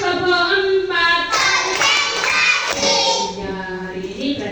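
A second-grade class claps hands on a count, with rhythmic claps mixed under children's chanting voices and an adult voice leading.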